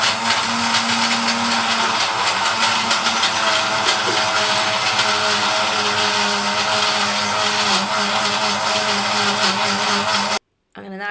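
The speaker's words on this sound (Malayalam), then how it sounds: "അപ്പോൾ നാളികേരം അരച്ചെടുക്കട്ടെ കേട്ടോ." A kitchen mixer grinder grinds coconut with a loud, continuous whirring drone that holds steady for about ten seconds, close by, then cuts off abruptly at the end.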